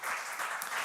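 Short burst of applause at a healthtech incubator kick-off ceremony, a brief, even wash of clapping at moderate level with no talk over it.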